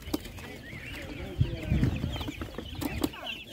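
Chickens and chicks cluck and peep at an animal market, with short scattered calls over a busy background while people talk nearby.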